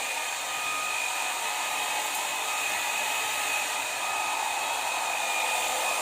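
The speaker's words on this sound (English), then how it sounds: "I put the hairdryer behind it so it really gets to the ends" A hair dryer blows steadily at close range, a loud continuous whooshing hum with a faint high whine, no voices.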